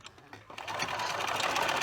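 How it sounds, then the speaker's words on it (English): A sewing machine stitches a fabric tote bag made from jelly roll strips, starting after a short pause and then running in a steady, fast, close whirring rattle with no talk. "sew along a little bit because you don't want to have too big a hole to have to sew up afterwards"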